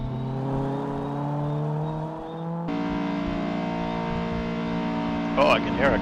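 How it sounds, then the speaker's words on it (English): A race car engine hums and revs in a sim racing game at Dover Raceway, a steady layered drone that steps up in pitch midway, with a brief burst of other game noise near the end. "Oh, I can hear a car revving up."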